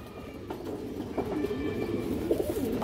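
Pigeons cooing in a pen, soft repeated throaty coos close by, fairly quiet over a low background hum.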